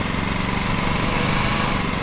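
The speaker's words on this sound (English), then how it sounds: "I don't know if this lawnmower engine's too loud" A lawn mower engine from the video game Lawn Mowing Simulator, heard in first-person view, drones loudly and steadily at a constant idle-like pitch, alone with no talk.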